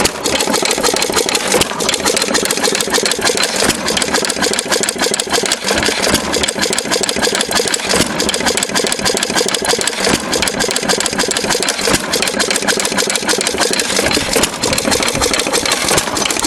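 A steady engine, a 1.5 hp Sattley on a cheap hydraulic lift cart, drones loudly throughout, with a dense metallic rattling from the cart clattering over it continuously.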